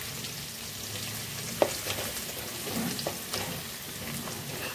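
Chopped onions fry in a pan with a steady, close sizzle. A few soft stirring knocks break through, and no one talks.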